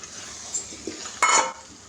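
Mutton drops onto cooked masala in a pan: a low simmering hiss, then a sudden loud burst of sizzle for a moment as the meat hits and is turned, fading again.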